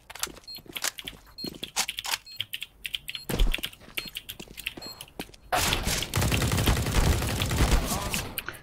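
Gunfire in the video game CS GO: bursts of rapid shots and sharp single cracks scattered throughout, with light footstep and keyboard clatter, then a dense, loud sustained barrage of fire in the final seconds.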